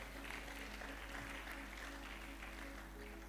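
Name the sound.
congregation clapping for a woman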